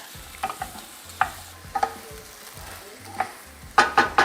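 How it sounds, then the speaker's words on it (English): Onions and tomatoes sizzling in a pan as they are stirred, steady frying hiss broken by repeated sharp spoon clinks and scrapes, loud and close, with a quick cluster of knocks at the end. "we want to cook these until the onions are translucent and the tomatoes are blistered."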